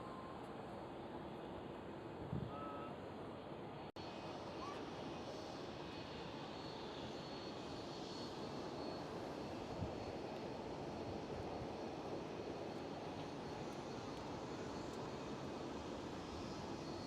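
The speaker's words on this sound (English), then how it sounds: "KLM A330 taxiing into the gate" A KLM Airbus A330 taxis at Schiphol airport, its jet engines producing a steady, broad roar at moderate distance, with one brief sharp click near the start.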